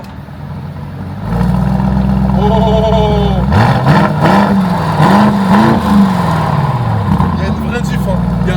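A Lamborghini Urus engine revs in Corsa mode, a loud deep rumble that rises and falls in several swells over a steady low idle, with a brief voice over it.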